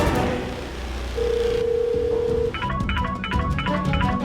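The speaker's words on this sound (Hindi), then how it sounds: "ये फोन की घंटी की आवाज तो राधिया के कमरे से आ रही है।" A telephone rings in Radhya's room in a household drama, starting with a sustained tone and then a string of rapid, repeating ring pulses that sound fairly close and clear.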